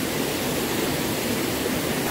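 Water rushes steadily at Gandahati waterfall in Gajapati, Odisha, a broad, even roar with no breaks, heard close by without any voices.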